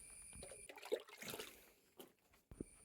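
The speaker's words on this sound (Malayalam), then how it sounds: "ഇനി നമ്മൾ ചെയ്യേണ്ടത് ഇതിനകത്ത് കുറച്ച് വെള്ളം തെളിച്ച് കൊടുക്കുക കേട്ടോ." Water sprinkled by hand onto burnt seashell lime to slake it, a few faint, scattered splashes and trickles with quiet gaps between them.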